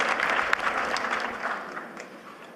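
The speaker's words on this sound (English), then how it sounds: "That was not a large applause." A small group claps for a couple of seconds, a thin, scattered applause that gradually fades.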